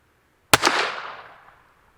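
A single loud, sharp gunshot from a Taurus .357 Magnum revolver fired in single action, with a sudden crack followed by a ringing decay that fades over about a second.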